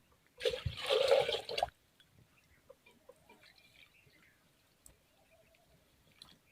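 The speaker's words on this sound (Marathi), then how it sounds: "तर मी इकडे टाकते पाणी आता" A short burst of two bowls of water pouring and splashing for about a second, followed by quiet with a few faint drips and clinks.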